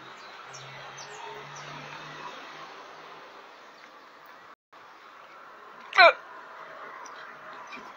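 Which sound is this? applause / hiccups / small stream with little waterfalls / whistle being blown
hiccups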